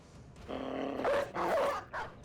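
A dog barks and yips in the Battle Brothers video game, a few sharp bursts close together at moderate loudness with no talk over them.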